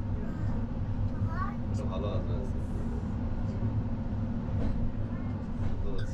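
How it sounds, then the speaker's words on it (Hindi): Araku Vistadome train rolling slowly through a tunnel on the Araku line, a steady low rumble with faint rhythmic wheel clatter, continuous throughout, with people talking softly in the background. "ट्रेन तो बहुत स्लो से जा रही है and it's the tunnel number 6।"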